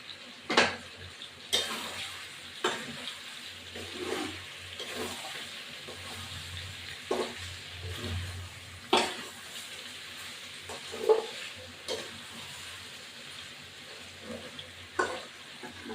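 Potatoes frying in a pan for Bengali chicken kosha, a soft steady sizzle broken by repeated clinking spoon strokes against the pan, close and moderately quiet, with no talking.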